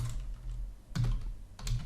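Keys clack on a computer keyboard while writing code in a console, a few close bursts of quick taps separated by short pauses.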